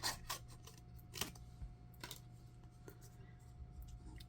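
Scissors cutting through paper for a card-making challenge, several short crisp snips spaced irregularly over a quiet room hum, close and fairly soft.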